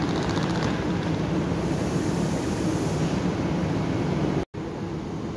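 The IC Barbakan intercity train pulls into Łódź Widzew station, a loud, steady broadband roar of wheels and motion filling the whole span, briefly cut by a short dropout near the end.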